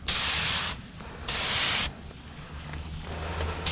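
Spray gun laying base coat paint onto a car quarter panel during a spot repair blend: two loud, steady hissing bursts of about half a second each, separated by quiet pauses, with another burst starting at the end.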